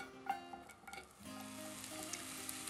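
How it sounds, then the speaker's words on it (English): A few clinks of peppers hitting a hot cast iron skillet with grapeseed oil, then a steady, quiet sizzle of frying takes over and continues. "You let these sizzle for a bit just so they get a good sear."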